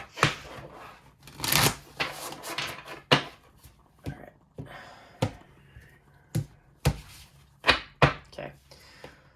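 Tarot cards being shuffled in a series of sharp riffling bursts and snaps, close up, with short pauses between, no talking.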